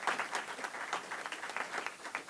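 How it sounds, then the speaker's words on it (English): Scattered, fairly quiet clapping from a conference audience thanking the catering staff, a steady patter of hands at moderate distance with no voices over it. "give them a round of applause"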